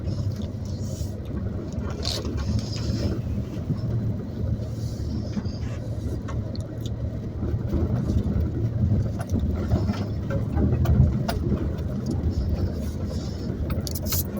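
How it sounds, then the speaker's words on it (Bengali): Car driving along a road through a date palm farm in Oman, steady low engine and road rumble holding close throughout with a slight swell near the end. "এই যে আবারও রাস্তায় গাড়ি।"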